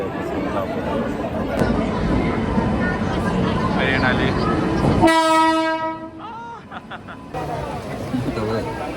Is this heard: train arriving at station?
yes